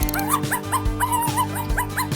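Small toy pet dog giving a run of short, regular yips and barks, several in quick succession, fairly close and over a steady background hum, with no talk.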